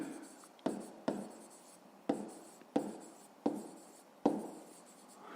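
A pen scratches across paper in six short strokes at a steady, slightly irregular rhythm, each a sharp tap fading into soft scraping, close and quiet with faint room noise between.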